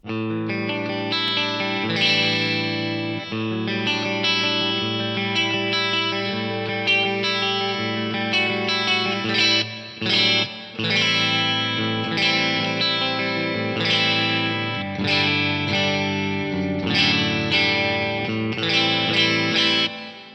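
Sustained chords and melodic notes washed in a big, bright hall reverb from a Roland SRV-2000 digital reverb unit, long tails blending between phrases; instrumental only, no talking.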